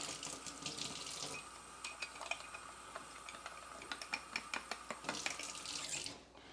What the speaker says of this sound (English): I use cold water when I dissolve it